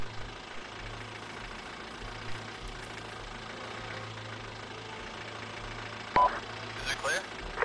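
A vehicle engine idling in ArmA II, a low steady rumble with a faint pulsing rhythm throughout, followed by a short burst of louder noise near the end.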